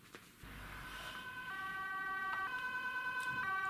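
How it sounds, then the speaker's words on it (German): An ambulance siren wails in a Masha and the Bear cartoon, rising from faint to clear with alternating two-tone pitches repeating over a low vehicle rumble, with no talk. "Wird Zeit, dass der Krankenwagen kommt."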